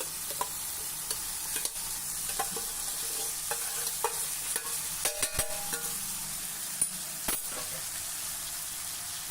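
Cooked urad and chana dal stirred gently in a pan: a low, steady sizzle with scattered light clicks and taps of the spoon on the pan, a quick cluster of strokes midway, close up and without speech.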